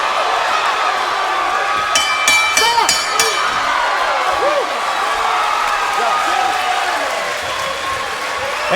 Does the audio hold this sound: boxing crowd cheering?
yes